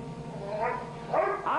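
A dog gives a few close, sharp barks and yips, tightening into quicker bursts toward the end over a murky indoor background.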